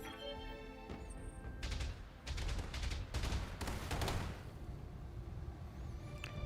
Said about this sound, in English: Not a fan of that turret fire